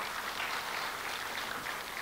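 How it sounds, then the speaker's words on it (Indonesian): A crowd at an awards ceremony claps steadily and loudly throughout, a dense wash of applause with no voices on top. "Boleh minta tepuk tangan ya, yang sangat meriah."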